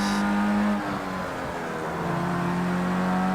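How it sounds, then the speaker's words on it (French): A Formula Rookie single-seater in the racing game Project CARS 2 at Knockhill, its engine droning steadily at high revs with a slight pitch dip and recovery, loud and continuous. "Première sortie de notre Formula Rookie ici à Knockhill."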